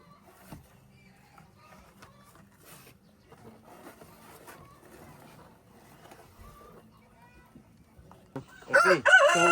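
Chickens, fed black soldier fly larvae in a backyard probiotic-feed setup, cluck softly in scattered bursts before a rooster crows loud and close near the end.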